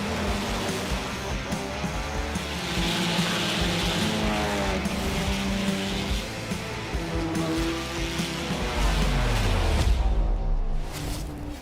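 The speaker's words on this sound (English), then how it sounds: "here's the start for the GT cars" A pack of GT race cars launch from the start in iRacing at Road America, engines roaring and revving together, loud and layered, with tires squealing and rising pitch as the field accelerates.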